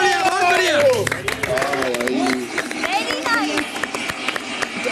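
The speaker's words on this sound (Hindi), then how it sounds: "जोरदार तालियां।" A studio audience on the reality show Bigg Boss 13 claps and cheers loudly, with dense applause and crowd noise running under lively talk throughout.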